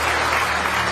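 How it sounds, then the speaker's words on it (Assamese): An audience applauds for mothers, a dense, even burst of many hands clapping close by. "নিজৰ মাতৃৰ বাবে এটা হাত চাপৰি বজাই দিয়ে"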